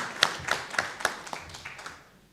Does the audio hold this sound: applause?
yes